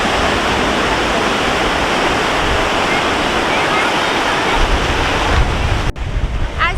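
Steady roaring rush of falling water and spray from Lower Yosemite Falls blown by strong wind, loud and constant, with gusts buffeting the microphone near the end.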